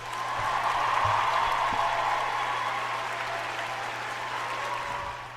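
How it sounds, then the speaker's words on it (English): Applause for a man, a steady, fairly faint wash of clapping that holds evenly over a low constant hum. "Give that man a round of applause"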